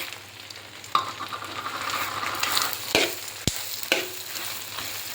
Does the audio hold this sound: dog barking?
no